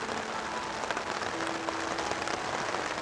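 Monsoon rain falling in the hills of Bangladesh, a dense, steady patter filling the whole scene at a constant level, with no voices.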